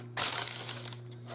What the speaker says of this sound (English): And then I crinkled it up again, pulled it apart